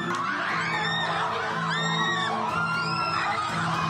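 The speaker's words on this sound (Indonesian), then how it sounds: "Ratusan siswa ramai-ramai menuju kantor guru sambil berteriak" Crowd of hundreds of school students shouting and yelling as they march toward a teachers' office in protest, a dense continuous wall of overlapping voices with rising whoops, loud and close throughout.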